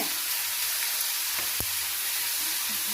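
Tomatoes and mint fry in a pan for pudina chutney, giving a steady close hiss of sizzling with a few faint clicks of stirring and a brief knock near the middle.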